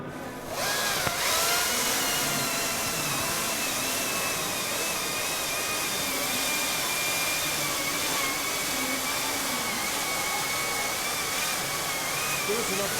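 A Makita 40V XGT 12-inch top handle battery chainsaw cuts wood, a loud continuous electric whine with a high motor tone holding steady for the whole stretch, no pauses.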